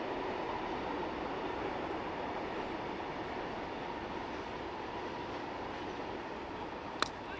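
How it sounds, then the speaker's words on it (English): A steady rumbling roar of a local train rolling past a cricket ground at moderate distance, continuous throughout, with a brief sharp click near the end. "As you can hear the local train in the background."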